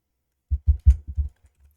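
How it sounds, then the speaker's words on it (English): Typing on a computer keyboard, a quick burst of about five close, soft key clicks in an uneven rhythm, then a couple of faint taps, in an otherwise quiet room. "I'm typing in all caps as if it's like a YouTube title"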